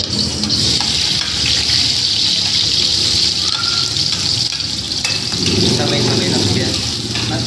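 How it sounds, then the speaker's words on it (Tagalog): Garlic and onion sautéing in hot oil in a pan for Filipino adobo, a steady loud hiss and sizzle throughout, with a deeper rumble joining near the end. "Igisa na natin ang bawang at sibuyas."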